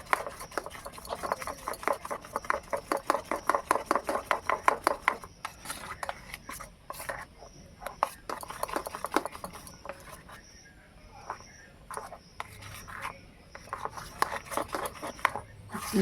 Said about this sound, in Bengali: ভালো করে মেশাতে হবে যেন গুটি না থাকে।